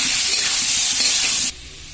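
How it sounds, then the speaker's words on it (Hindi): Coriander and chili powder masala sizzles and hisses steadily as it is stirred and roasted in a pan, a close, continuous frying sound that drops away abruptly partway through. "तब तक हम अच्छी तरह मिला लेंगे ताकि मसाला हमार भुना जाए।"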